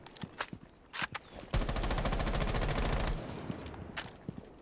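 A rapid automatic rifle burst in Rainbow Six Siege, sustained for about a second and a half, loud and close, framed by a few single shots and footsteps before and after.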